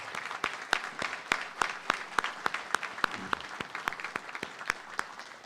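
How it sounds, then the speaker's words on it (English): A crowd applauding at a university honors college graduation ceremony, with a dense wash of clapping and a few sharp, evenly spaced claps standing out over it. "Everybody give yourself a round of applause."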